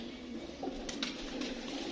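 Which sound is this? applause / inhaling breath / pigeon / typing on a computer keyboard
pigeon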